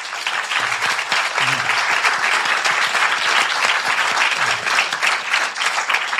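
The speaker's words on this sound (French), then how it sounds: "On peut l'applaudir." Loud, dense applause fills a room for a podcast creator, continuous clapping from a live audience with brief voices and cheers mixed in underneath.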